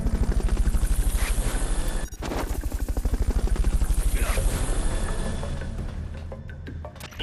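Helicopter in the video game Metal Gear Solid: Peace Walker, a loud, steady rotor chop with rapid pulsing blades throughout, briefly dipping before continuing and gradually fading.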